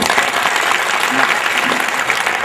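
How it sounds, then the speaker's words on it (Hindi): Steady applause from a poetry-event audience at a Hindi comedy kavi sammelan in Tonk, Rajasthan, a dense, even wash of many hands clapping at constant loudness throughout, with no voices over it. "जरा एक बार ताली बजा दीजिए आप।"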